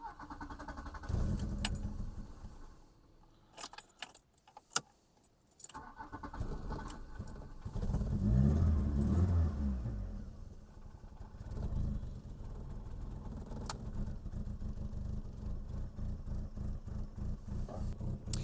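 A car engine cranks and catches, then idles unevenly with a lumpy, sputtering rhythm, close by and steady under faint jangling.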